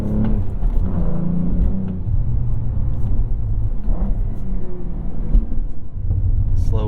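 A 2022 Cadillac CT4-V Blackwing drives in track mode, with a steady, loud, low engine rumble and road roar heard from inside the cabin and brief sounds of the driver talking.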